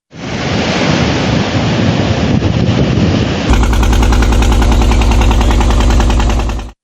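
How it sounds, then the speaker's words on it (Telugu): Gusty winds from Cyclone Montha roar over the shore at the Kumbhabhishekam landing, a loud, dense, continuous rush of wind and surf that changes abruptly midway and then holds steady. "కుంభాభిషేకం రేవు వద్ద భారీ ఈదురుగాలులు సంభవించాయి"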